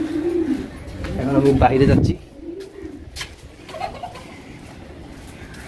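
Pet pigeons kept in cages for pure breeding coo in soft, low, rolling calls nearby, with a person speaking over the birds.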